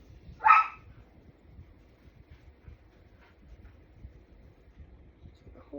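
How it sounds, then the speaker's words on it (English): A single short dog bark rings out near the start indoors, followed by quiet room noise with faint low rumbles and a small sound at the very end. "Sydney, what are you barking about?"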